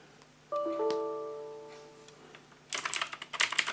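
A SADES K10 mechanical gaming keyboard with blue switches clicks rapidly in a quick burst of crisp, loud keystrokes near the end, following a faint tonal hum.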